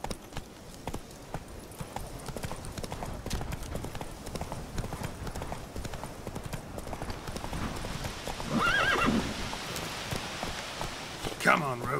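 Roach the horse in The Witcher 3 galloping with rapid, continuous hoofbeats over a rainy, rustling ambience, with someone speaking over it at times.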